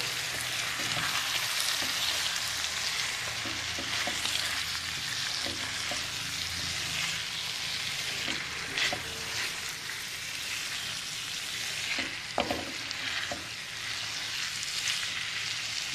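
Snails and raw chana dal frying in a pan give off a loud, steady sizzle with occasional stirring scrapes, continuous and close throughout.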